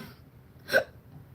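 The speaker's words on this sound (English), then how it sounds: "That was a hiccup and a belch." A single short hiccup and belch, brief and close, with a small throaty burst in an otherwise quiet moment.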